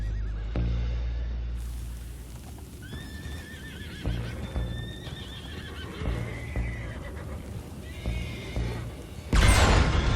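Horses neigh and whinny repeatedly in Red Dead Redemption 2 after an in-game explosion, with hoof clip-clop and rumbling underneath, ending in a loud burst of noise.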